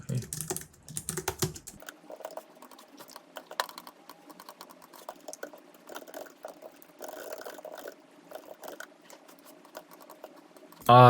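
Rapid typing on a computer keyboard, irregular bursts of close, light key clicks continuing for several seconds after a short moment of talk at the start.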